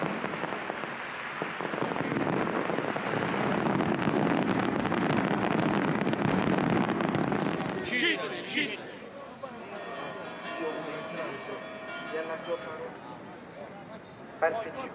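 Dense crackling bursts and rumbling pops of fireworks fill the air for several seconds at Catania's Saint Agatha religious festival in Sicily, Italy, then fade into a murmuring crowd with scattered sharp bangs.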